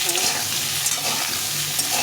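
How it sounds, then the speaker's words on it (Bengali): Pointed gourd frying in a little oil with salt and turmeric, a steady close sizzle with occasional stirring scrapes. "লবণ হলুদ দিলে ভাজাটা একটু ভালোভাবে ভেজে ভাজা হয়"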